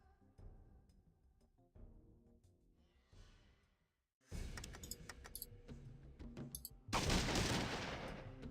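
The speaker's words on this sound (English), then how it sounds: "Assault rifle." Assault rifle fire in the video game Fallout 2 comes as bursts of loud, dense shots after a quieter stretch of game sounds, with a brief gap before one last sustained burst.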